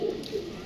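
A Teddy pigeon gives a soft, low coo, one short burst close by with faint room noise behind it.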